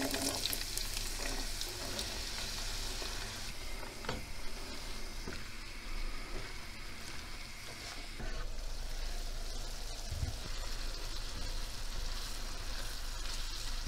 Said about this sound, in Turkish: Soğanımız çok güzel soteleniyor.